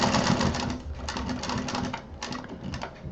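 A sewing machine stitches closed a seam on a fabric baby doll bag. It gives a loud, continuous mechanical whirr with rapid rhythmic clatter. No voice is heard.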